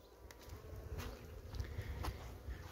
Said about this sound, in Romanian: haideți să vin mai aproape, să vedem un cadru mai apropiat de aceste albinuțe